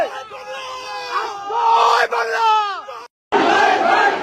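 Protesters in a political confrontation shout slogans together, loud and close. The roaring crowd voices rise and swell, then cut off abruptly just before the end and resume.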